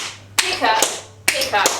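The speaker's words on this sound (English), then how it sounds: "you hinge on that heel and pull back to strike the floor with your toe taps" Tap shoes striking a floor in a tap dance class: two sharp toe-tap strikes, each followed by a brief scuffing step, close and crisp with a short pause between them.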